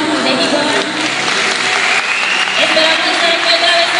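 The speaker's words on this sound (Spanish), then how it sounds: "un fuerte aplauso para ustedes ya por último, para despedirlos" An audience at a Comic Con cosplay runway show in Gijón applauds loudly and steadily, a dense close wash of clapping throughout, with a voice speaking over it.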